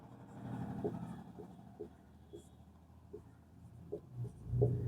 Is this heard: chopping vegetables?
no